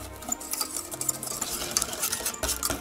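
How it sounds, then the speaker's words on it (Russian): A utensil scraping and swishing through thick batter in a bowl, a steady close-up stirring rhythm with soft clinks against the sides. "тоже все хорошо перемешиваю до однородной массы."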